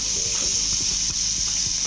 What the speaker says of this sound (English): So I begin with the shrimps first. Just fry it to firm up a bit.